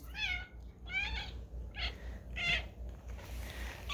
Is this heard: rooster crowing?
no